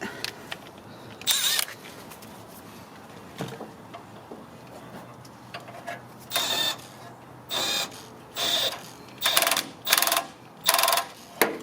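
Brake caliper bolt being tightened on a 2003 Toyota 4Runner front brake, heard as a series of short, sharp ratcheting bursts that grow more regular toward the end, close by with no talking.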